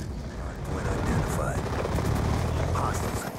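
Call of Duty Black Ops 2 multiplayer gunfire rattles in dense, continuous bursts with booming impacts, loud and close, while a player talks over the shooting.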